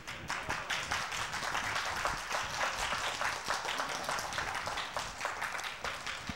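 Scattered applause from an audience, a dense, steady patter of many hands clapping at moderate distance throughout, with no voices on top.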